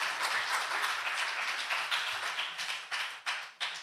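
A church congregation at a Sabbath celebration service breaks into applause, a broad wash of many hands that thins out toward the end into a few separate, distinct claps.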